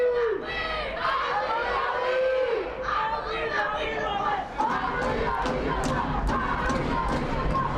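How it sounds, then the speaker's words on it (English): A crowd at a varsity high school football game between Orange High and Long Beach Millikan chants loudly in a rising rhythmic swell, with shouting and chatter mixed in across the stands. "The crowd erupting in an "I believe we will win" chant."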